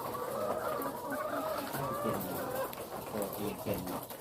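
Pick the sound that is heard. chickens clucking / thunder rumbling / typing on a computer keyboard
chickens clucking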